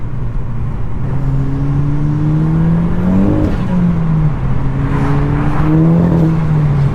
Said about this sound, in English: we'll probably drop it down into second gear and see what it pulls like